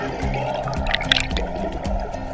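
Running water flows steadily around an Estream portable water turbine generator, a close, continuous wash with small splashes and trickles, with a faint voice briefly heard.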